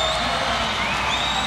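A large crowd cheers steadily at a national swimming championship in Indianapolis during a women's 1500m freestyle race, a dense, continuous roar with no break over a short moment.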